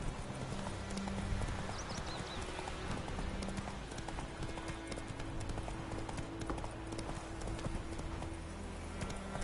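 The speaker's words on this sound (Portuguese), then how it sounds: "Vai, cavalo." Horse hooves gallop across the ground in the video game The Witcher III, a steady, fast clip-clop running throughout with a faint whinny and game ambience.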